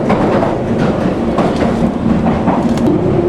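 A London Underground train runs through a tunnel, a loud steady rumble with rhythmic wheel clatter and faint squeals, no voices heard.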